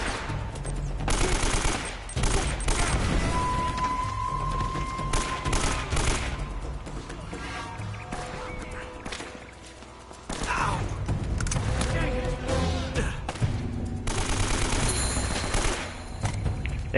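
An AK rifle fires in Uncharted: Drake's Fortune amid a dense, ongoing in-game firefight of rapid shots, booms and thuds that continues almost without pause, dipping briefly midway before resuming.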